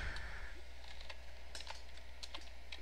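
Typing on a computer keyboard while entering code for a Flash game trainer, with scattered light key clicks in short bursts over a steady low hum.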